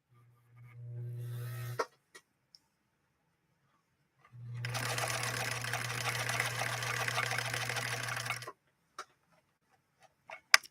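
A Husqvarna Viking 21E sewing machine sews a straight stitch with a short whirring run followed by a longer steady hum, close by, with a few clicks between runs.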